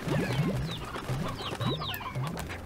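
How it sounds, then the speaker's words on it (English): Several roosters in the video game Slime Rancher cluck close by in short repeated bursts of low clucks mixed with rising squawks, with faint chirps over a steady background. "I got me some four roosters."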